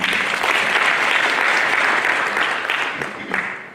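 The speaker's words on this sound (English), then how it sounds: "let's have a round of applause for UNDP" A crowd applauds steadily, a dense wash of clapping that holds strong for several seconds and then thins slightly toward the end.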